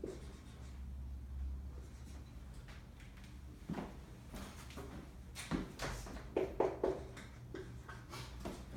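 Chalk or marker scratching an equation on a board during a physics lecture on Newtonian gravity, a series of faint short strokes and taps that grow more frequent toward the end, with a hum of room noise.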